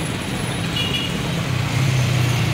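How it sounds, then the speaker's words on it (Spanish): Garbage collection truck pulling away on a neighbourhood street, a low engine rumble that swells gradually as it starts to roll, with no voices. "Ya parece que arranca el carro."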